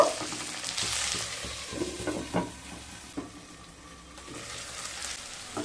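Capsicum pieces and frozen peas frying in a pan, a soft continuous sizzle with occasional light stirring clinks, fairly quiet and without speech.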